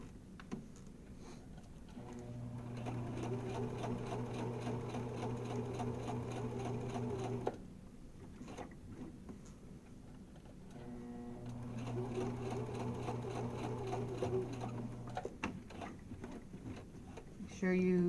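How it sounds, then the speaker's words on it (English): A sewing machine sews forward along a zipper seam in two long steady runs separated by a short pause, its motor hum and needle clatter close and clear, with a voice speaking briefly in the gap. "So then I'm going to sew forward again to the end, and I'm not going to back stitch when I get to the end."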